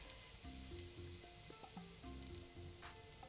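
Halva fish pieces coated in masala fry on a hot tawa with a soft, steady sizzle, heard quietly under some background tones and without anyone speaking.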